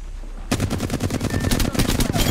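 Rapid automatic gunfire in the video game Apex Legends rattles in dense, loud bursts after a brief quiet start and continues nearly without pause through the rest of the clip.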